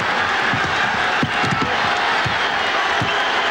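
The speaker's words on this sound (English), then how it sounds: "That little flurry got the crowd up." Crowd of about 25,000 in a packed college basketball arena cheering in a Kentucky vs. Tennessee game, a continuous loud roar with scattered shouts and whoops, steady throughout.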